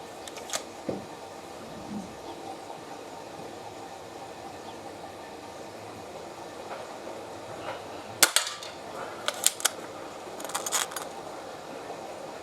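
Benjamin Trail NP MK2 air pistol fired outdoors, a few sharp cracks spaced apart over a steady background hum, one early and a cluster of snappy reports near the end, no talking.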